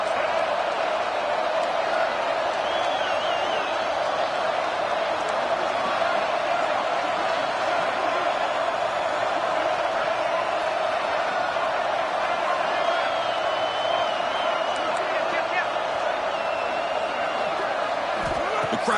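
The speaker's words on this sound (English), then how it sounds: "Crowd is roaring, trying to help this defense on 4th down." Football stadium crowd roaring on 4th down in a Penn State versus Baylor game, a dense, steady wall of crowd noise that holds without letup.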